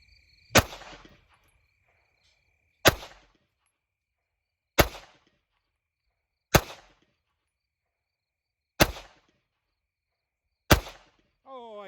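Six sharp handgun shots fired one-handed with the support hand, evenly spaced about two seconds apart, each a loud crack with a short ringing tail over a quiet range.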